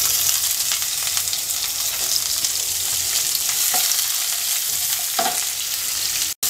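Whole cumin seeds and two medium chopped onions fry in hot oil, giving a loud, steady sizzle with occasional soft scrapes from stirring.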